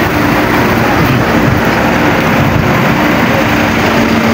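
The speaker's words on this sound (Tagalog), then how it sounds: "Daming sasakyan." Heavy, steady traffic of many vehicles at Monte Maria, a continuous loud wash of engine and road noise with no distinct pass-bys.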